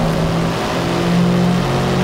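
Tuned Subaru engine accelerating in a Forza racing game, a loud sustained droning engine note that climbs slightly in pitch as revs build, steady throughout with no talking.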